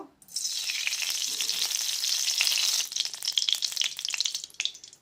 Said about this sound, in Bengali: আমি একটা কড়া বসি দিয়েছি ওর মধ্যে একটু তেল দেব সরষের তেল দেব